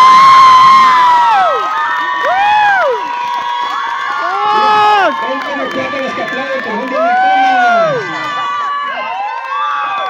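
A crowd at a dance contest cheers, whoops and shouts for a competing couple in loud, sustained waves of excited voices, close and continuous throughout.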